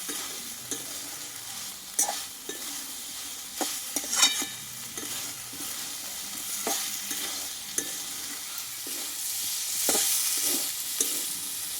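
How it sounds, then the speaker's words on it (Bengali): Soybean chunks and potatoes fry with spices in a pan for a Bengali soybean curry, a steady sizzle under repeated scraping stirs and sharp utensil knocks spaced through the whole stretch, with no talking. "মশলার সঙ্গে সোয়াবিন আলু কিন্তু ভালোভাবে কষানো আমার হয়ে গেছে"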